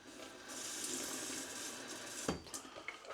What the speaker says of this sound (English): I'm just going to add a little splash of water